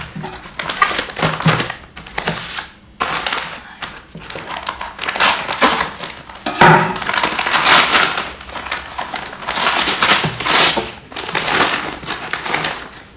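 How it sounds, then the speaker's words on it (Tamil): Crinkling and crushing of packaging during an unboxing of GoPro Hero 11 accessories and an MI power bank, with continuous close rustling, tearing and handling noises in uneven bursts and no talk. "We are going to start our unboxing."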